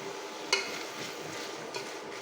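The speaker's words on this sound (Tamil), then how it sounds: "இப்போ இது எல்லாமே சேர்த்து நல்லா வதங்கட்டும்" Carrots and beans sauté for vegetable kurma with a faint, steady sizzle, and a utensil clinks against the pan twice, close by, with no talking.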